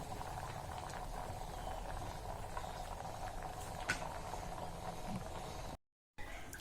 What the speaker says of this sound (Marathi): आणि छान आता रश्याला चांगलं उकळू देऊया